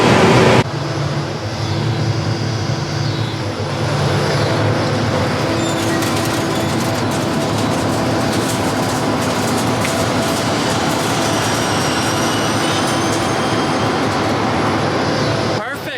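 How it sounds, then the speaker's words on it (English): A John Deere combine harvester shells corn in the field with a loud, steady mechanical drone and rumble, layered with rattling and whine that run unbroken throughout. "I'm gonna get back to shelling corn"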